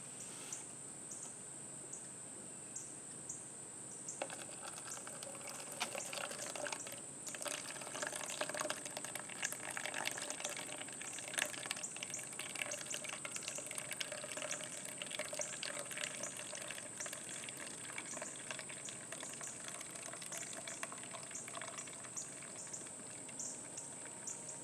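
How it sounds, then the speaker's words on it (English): Plant dye extract pours steadily into a container as a continuous watery trickle with a thin high hiss, growing fuller and louder partway through and running on alone for the whole stretch. "Going to attempt to pour out as clean an extract as I can get."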